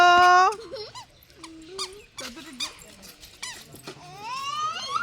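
A dog whines and squeaks in high, wavering bursts while trying and failing to catch a ball, its cries rising and falling close to the microphone with a person speaking in the background.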